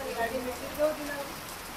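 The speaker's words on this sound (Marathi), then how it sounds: "तर मित्रांनो खूप पाऊस चालू आहे बाहेर." A steady hiss of rain fills the background, fairly soft and even, with a faint murmur of voices beneath it.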